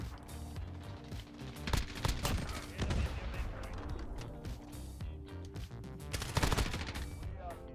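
Rapid automatic assault-rifle fire in the video game Modern Warfare: repeated loud bursts of gunshots with short gaps between them, dense and close throughout.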